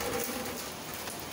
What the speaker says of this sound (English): maybe you can see the rain flowing quite quickly